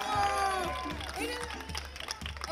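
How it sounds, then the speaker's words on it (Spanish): A TV studio audience's applause and cheering mixed with a loud, sustained speaking voice over it, dense and close, at a ceremony crowning a 100-year-old woman. "¡Aplauso!"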